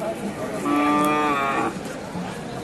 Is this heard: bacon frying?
no